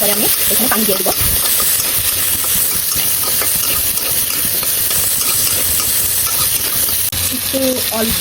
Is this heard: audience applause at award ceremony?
no